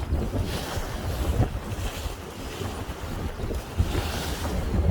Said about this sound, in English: there's a west-southwest wind